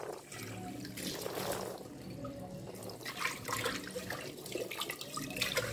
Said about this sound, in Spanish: Vamos a seguir enjuagando. Vamos a enjuagar.